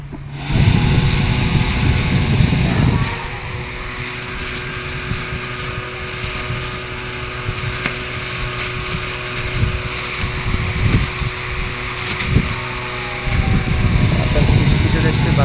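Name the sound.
rechargeable electric fan running at high speed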